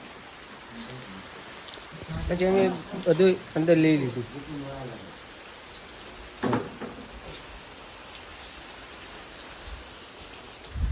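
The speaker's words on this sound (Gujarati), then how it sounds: "અહીંયા ત્યાં વરસાદ આવી ગયો જુઓ." Rain falls steadily as a soft, continuous hiss, with a person speaking briefly over it early on and a short knock or bump partway through.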